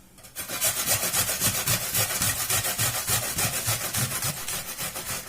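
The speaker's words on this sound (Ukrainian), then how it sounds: "Так що починаю я з цибульки." Onion being grated by hand on a kitchen grater, a steady rhythmic rasping with regular back-and-forth strokes, close and fairly loud, no talking.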